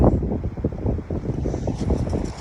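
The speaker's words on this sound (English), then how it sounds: "Bit windy out here." Strong wind blowing outdoors in Abiquiu, New Mexico, buffeting the microphone in loud, gusty low-pitched bursts throughout.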